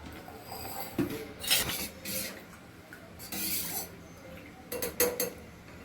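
A spoon stirs barley and water in a pot before it goes on the gas, giving scattered scraping clinks and light knocks against the pot, a few separate bursts close by and fairly quiet.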